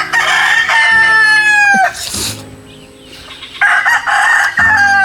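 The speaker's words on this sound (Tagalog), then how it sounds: "ang ingay ng manok" Loud, close rooster crows ring out repeatedly, with chickens clucking and squawking in between.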